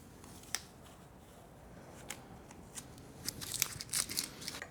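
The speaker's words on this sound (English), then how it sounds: "Now I can pull the tape off." Tape being peeled off a motorcycle handlebar during a retro handlebar kit install on a 2024 Triumph Bonneville T120, heard as quiet crackly tearing and sticky snaps, a few sharp ticks early and a denser burst of peeling near the end.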